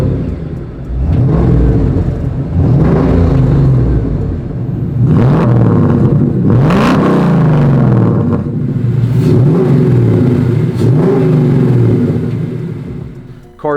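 Revving Coyote V8 from a 2014 Mustang, fitted with headers and Borla mufflers in a 1967 Mustang Fastback, rises and falls through several loud throttle blips over a steady idle rumble, close and continuous with no talk.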